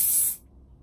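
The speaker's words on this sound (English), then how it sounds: "We've got this spray" One short, sharp hiss from a perfume spray bottle, close by, lasting about a third of a second before cutting off into quiet.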